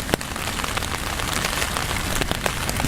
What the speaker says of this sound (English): that rain's coming a bit now